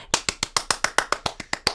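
Twelve evenly spaced hand claps in a steady beat at a children's story time sing-along, close and crisp with no voices over them.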